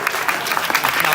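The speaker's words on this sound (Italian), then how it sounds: "Applausi per Di Giorgio" A short burst of crowd applause at an amateur football match for injured player Di Giorgio, scattered clapping from the stands heard under a commentator's voice.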